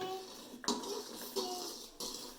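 Soft scraping and clinking of a utensil stirring a homemade volcano mixture in a container, a few brief strokes, quiet and close, with a voice speaking faintly in the background.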